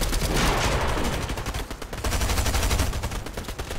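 Dense, rapid gunfire from the Fortnite video game, shots fired at logs during an FNCS match: loud, continuous bursts of automatic shooting with no pauses.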